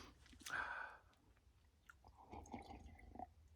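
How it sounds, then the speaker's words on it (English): Wet slurping and gurgling sips close to the mic, a loud burst early on followed by softer swallowing and mouth sounds. "Sorry about the gurgling and slurping noises."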